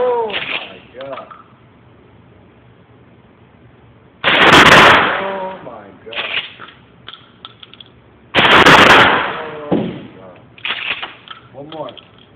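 Two loud, sharp blasts from a Mossberg 500 12 gauge shotgun ring out several seconds apart outdoors, each with a brief echoing tail, while people talk and exclaim between the shots.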